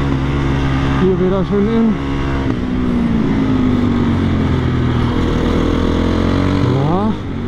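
A supermoto racing motorcycle accelerates hard around a track, its loud engine droning and rising in pitch with quick revving sweeps near the start and end, under a talking voice.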